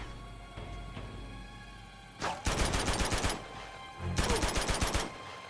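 Rapid automatic AK rifle fire in the video game Uncharted 2, set in Borneo, comes in two sustained loud bursts of about a second each, separated by a quieter pause over a background ambience.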